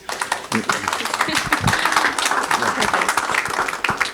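Audience at a book presentation on health and sustainable human development applauds a speaker, close and fairly loud clapping with distinct individual claps and some voices in the room.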